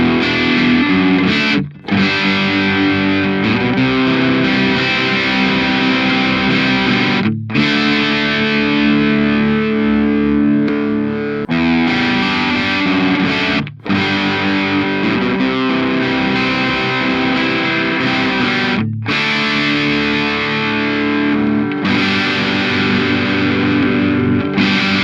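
An electric guitar through a Boss DS-1 distortion pedal at low gain plays loud sustained chords and riffs, with gritty crunch and brief gaps between phrases, no voices.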